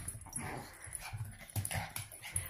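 Small dogs play together, a white Pomeranian nipping at a little black dog's leg, with soft whimpers, yips and scuffling noises coming close and fairly quiet in short bursts.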